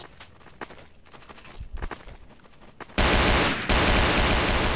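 Gunfire in the Garry's Mod mode Trouble in Terrorist Town starts as scattered light taps and then breaks into a loud, dense burst of continuous shots with a brief gap before it resumes.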